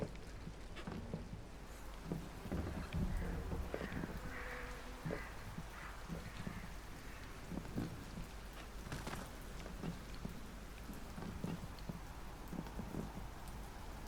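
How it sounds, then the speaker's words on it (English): Steady rain pours in the storm belt of the video game Sancticide, a dense constant hiss of drops on surfaces with faint distant thunder rumbling beneath and scattered louder patters throughout. "It's always raining down here."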